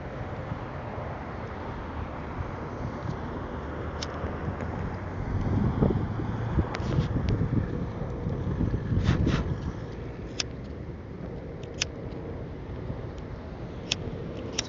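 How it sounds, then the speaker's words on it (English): Wind gusts across an open spot in Alameda, buffeting the microphone with a steady low rumble that swells and thickens midway before easing back, with occasional brief clicks and no talking. "It's always been an issue with the wind."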